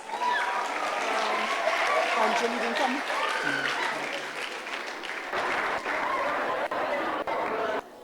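An audience at a primary school annual awards ceremony gives a class a long round of warm applause, steady clapping with scattered voices and chatter mixed in throughout.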